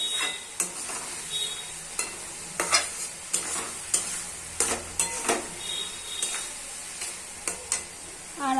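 Ginger-garlic paste frying in a pan as it is stirred for chicken ghee roast, with regular sharp spoon scrapes about once a second over a continuous hiss of sizzling oil, no speech.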